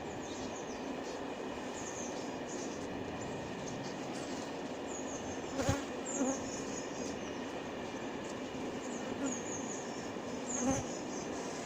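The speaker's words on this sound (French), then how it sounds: "Il y a énormément d'abeilles dans cette colonie" A dense, continuous buzz rises from a crowded, queenless honeybee colony in Montgeron. It stays steady and close throughout, with a few brief knocks and thumps now and then.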